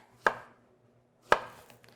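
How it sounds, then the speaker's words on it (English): Two crisp knife chops through a ripe plantain onto a cutting board, about a second apart, close and clear with quiet in between. "we're going to cut them because they're ripe"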